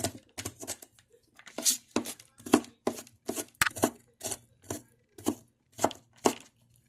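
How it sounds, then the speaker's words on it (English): A knife roughly chops pozole ingredients on a board, giving about fifteen close, crisp, uneven strikes in a quick irregular rhythm with short pauses between them. "Do a little nice rough chop on the top."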